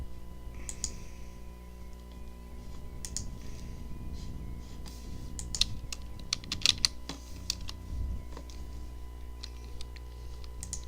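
Someone types on a computer keyboard in a steady run of close key clicks, with a few louder taps near the end over a low background hum.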